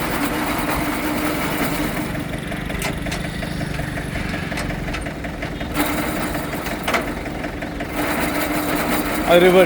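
A heavy duty tractor winch runs in second gear, a steady mechanical engine drone with rattling gear noise and a few sharp clanks, growing louder near the end; people talk briefly over it.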